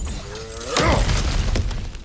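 Cracked ground smashed open in God of War Ragnarök, a single loud shattering crash of breaking rock and debris, preceded by a brief tonal hum and followed by scattered settling rubble.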